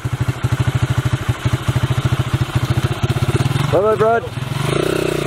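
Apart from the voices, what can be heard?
motorcycle engine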